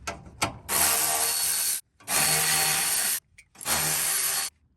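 A ratchet wrench removes 12mm bolts from the front skid plate of a Toyota truck with a 3.4L 5VZ-FE V6, sounding as three loud, close bursts of fast clicking, separated by brief pauses.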